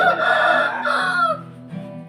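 A rooster crows loudly and close by in a long, sustained call that trails off, then a second, quieter call starts near the end. Nobody speaks.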